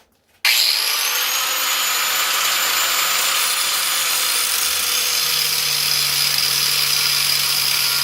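Cutoff wheel grinding through a steel saw blade, starting abruptly after a brief quiet moment and then holding a loud, continuous high-pitched whine and rasp, close up with no talking.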